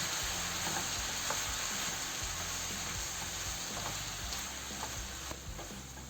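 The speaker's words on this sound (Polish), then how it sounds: "I smażymy to do momentu, aż marchewka będzie miękka." Meat and carrots sizzle steadily in a hot pan on a gas stove, with occasional scraping stirs and soft clatter, close and continuous with no voices.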